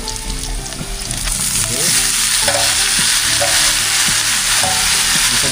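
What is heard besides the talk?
sautéing offal in oil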